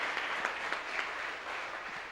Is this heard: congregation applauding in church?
yes